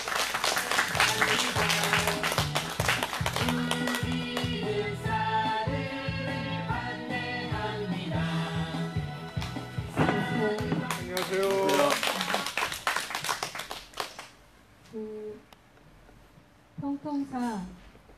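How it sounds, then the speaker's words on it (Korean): Crowd clapping at an outdoor anti-THAAD protest rally in Soseong-ri, dense and sustained over music and voices, then thinning out into a few scattered bursts near the end. "자, 많은 박수 필요합니다."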